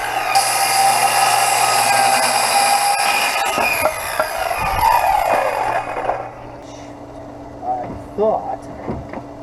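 A power tool whirs steadily while cutting a piece during a camper build, loud and continuous for about six seconds before stopping, followed by quieter handling knocks and a few brief sounds.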